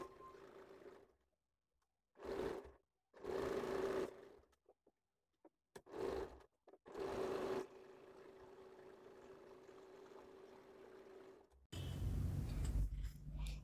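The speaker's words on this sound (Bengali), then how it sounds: "মিলিয়ে নেওয়ার পরে আমি সেলাই করে নিচ্ছি" A domestic sewing machine stitches salwar fabric in short bursts, then in a long steady run, with a hum that stays close and clear and no voices over it.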